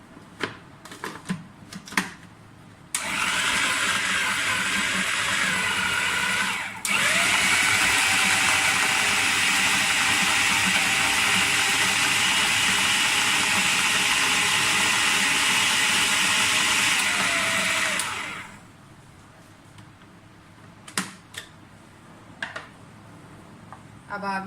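Two slices of bread whirring into crumbs in a food processor, a steady loud high-pitched motor roar lasting about fifteen seconds that starts abruptly and winds down at the end, with scattered clatter and handling noise before and after.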